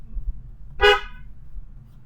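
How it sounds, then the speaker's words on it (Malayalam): A car horn gives one short, loud honk during a driving lesson on the road, standing out clearly against a low, rumbling cabin background. "ഒന്ന് ഹോൺ അടിച്ചു കൊടുക്കുക"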